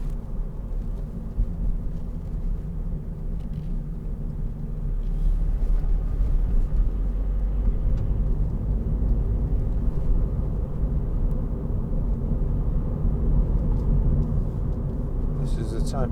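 A 2015 Toyota GT86 2.0 D-4S driving in fifth gear at around 30 mph, giving a low, steady engine drone with road rumble inside the cabin that swells slightly partway through.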